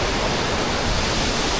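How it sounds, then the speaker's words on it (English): Large waterfall in the Scottish Highlands, about 10 to 20 meters high, a steady, loud, close roar of falling water that fills the whole moment with no voices. "Whoa, now this is what I call a waterfall."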